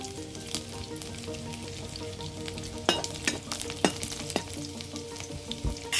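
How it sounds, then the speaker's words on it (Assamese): Garlic frying in hot oil with whole cumin and fenugreek seeds, a steady close sizzle with sharp crackles and pops scattered over it, a spoon or spatula occasionally scraping the pan. "নহৰুখিনি অকণমান ভাজি ল'ম।"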